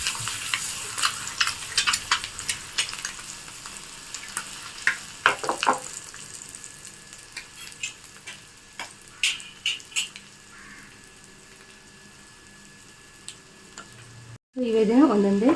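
Eggs frying on a tawa in a home kitchen, street-style egg tawa fry seasoned with chilli powder, giving a steady close sizzle with scattered crackles and pops, a few scraping stirs, a quiet stretch, then a louder sizzle burst near the end.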